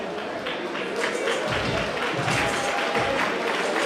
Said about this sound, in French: Monsieur Foujas, sous vos applaudissements.